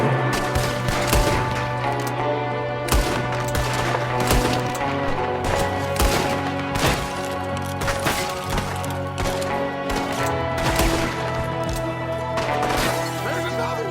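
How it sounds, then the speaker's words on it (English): Repeated gunfire in a busy Red Dead Redemption 2 shootout with shots from a window: scattered loud cracks and irregular volleys layered over constant music and background game noise. "There's another one shooting from the window."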